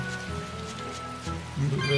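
Steady rain falls over the town of Westgate in the Tales of Berseria video game, a continuous even hiss alongside sustained tonal music that swells louder near the end.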